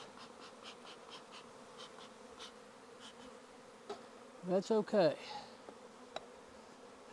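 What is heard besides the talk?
honeybee swarm buzzing during hive transfer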